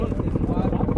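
A US-made Chinook double-rotor helicopter of the Indian Air Force flies overhead, its steady rhythmic rotor thumping rumbling loudly underneath someone talking over it.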